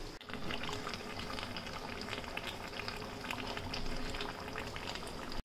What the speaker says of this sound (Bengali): ভাত হচ্ছে, একটু ফুটুক